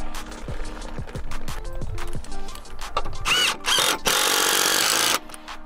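A power driver sets two fixings for a solar panel roof hook into timber rafters, with short bursts of whirring, sharp taps and clunks, then a long, loud sustained drill run close by.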